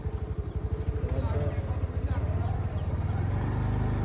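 A motorcycle idles near a muddy riverside track, its engine putting out a steady, close, low pulsing throb throughout while people talk over it.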